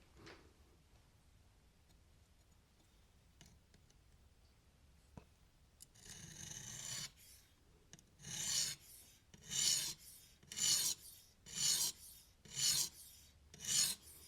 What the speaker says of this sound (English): So I'm just letting the weight of the stone kind of reprofile that edge.